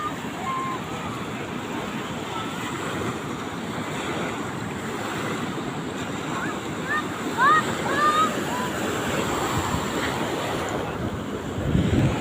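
Ocean surf washing onto a shore at low tide, a steady broadband wash with slightly louder surges near the end, under wind noise on the microphone; a few brief bird-like chirps are mixed in.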